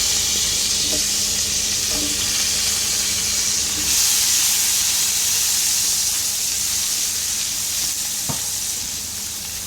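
Garlic and onion fry in a pan for a mung bean stew, making a strong continuous sizzle and hiss that swells slightly midway, with a few faint stirring clicks and no talking.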